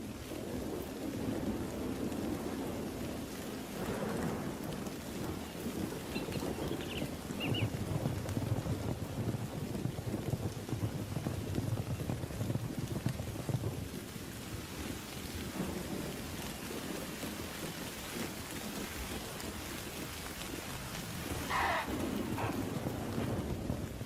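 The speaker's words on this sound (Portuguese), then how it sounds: "Todos os dias, uma tempestade em alta. Primeiro, som e fúria." A thunderstorm in the African bush, with heavy rain pouring steadily on the ground and deep rolls of thunder rumbling through, the downpour loud and unbroken for the whole stretch.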